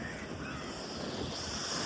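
Sea waves wash onto a Jaffna shoreline near Valvettithurai, a soft, steady hiss of surf mixed with wind rumble against the microphone, with no distinct breaks.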